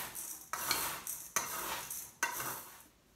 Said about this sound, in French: Et je saupoudre les herbes de Provence. Voilà, j'en saupoudre et je mélange.